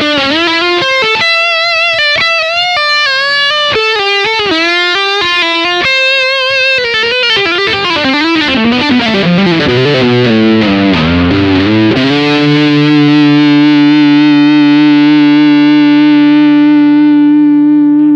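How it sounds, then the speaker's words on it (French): Electric guitar playing a jazz-rock lead line with a touch of delay, strung with Savarez strings: a run of quick distorted notes that slows, slides downward, then lands on a long sustained singing note. "je mets un tout petit peu de délai, et ça me permet d'avoir une belle résonance qui ressemble presque parfois un peu au saxophone"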